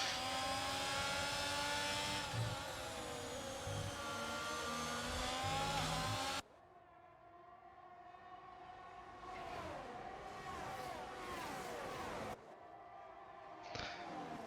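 Ferrari Formula 1 race car lapping the Singapore Grand Prix circuit in a racing video game, its high-pitched engine screaming loudly through rising and falling gear changes, then cutting to quieter passes with other whining cars.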